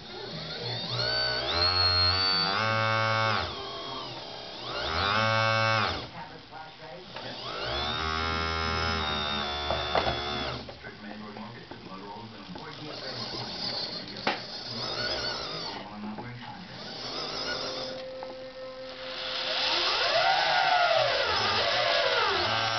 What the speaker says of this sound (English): All of this is to conserve battery life and get maximum runtime out of my model here, so the pump doesn't have to run all the time